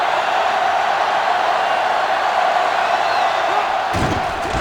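Football stadium crowd roaring loudly and continuously, a dense wall of cheering that carries on without a break, with a sharper burst of noise near the end.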